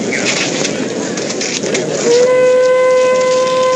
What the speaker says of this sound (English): There's the train. Here she comes, fellas.